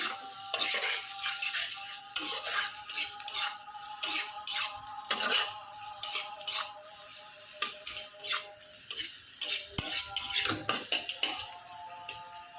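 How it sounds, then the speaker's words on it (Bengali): Salted onions frying in hot mustard oil, with a steady sizzle and frequent close scraping and clinking as a spatula stirs them around the pan. "এখন আমি গরম তেলে, সর্ষের তেলে পেঁয়াজগুলোকে ভালো করে ভেজে নিচ্ছি"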